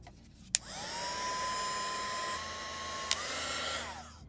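A hair dryer dries a layer of watercolor paint, clicking on with a steady whining blow that shifts pitch briefly and then clicks off, close and alone.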